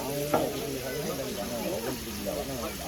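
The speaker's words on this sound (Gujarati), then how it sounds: "જ્યાં સુધી આ ડુંગળી લાલ નહીં થઈ જાય ત્યાં સુધી એને મિક્સ જ કરશે" Onions fry and sizzle in a large pot as they are stirred, a steady close hiss with occasional scraping strokes, while someone talks over it.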